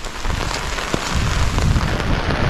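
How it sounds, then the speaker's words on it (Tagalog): Steady rain falling on a farm of bitter gourd plants, a dense continuous hiss of drops on surfaces with occasional sharper taps, close and fairly loud throughout. "medyo humina na yung ulan"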